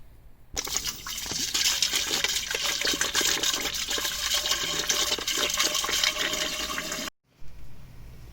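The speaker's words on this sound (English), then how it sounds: "fill up maybe about a quarter of this with some water" Water from a tap gushes steadily into a lawn sprayer canister, a loud continuous rushing splash lasting several seconds before cutting off abruptly, followed by a faint trickle.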